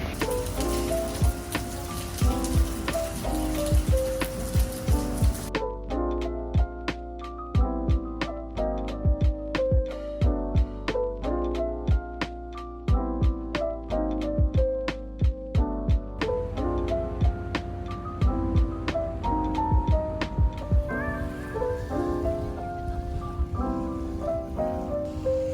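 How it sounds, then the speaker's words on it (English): Rain falls steadily on Sentosa island in Singapore, a dense, continuous patter of drops tapping nearby surfaces that lasts the whole stretch with no voices. "We're in Sentosa now and it is raining still."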